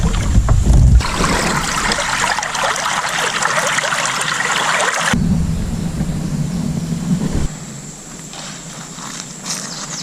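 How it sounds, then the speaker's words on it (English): A kayak pushes up through shallow river rapids into deeper water on the Spring River, with steady rushing, churning water and splashing throughout, close and fairly loud, easing to a calmer flow near the end. "Noah struggles with determination to make it up the rapids into deeper water, and with persistence, he finally makes it"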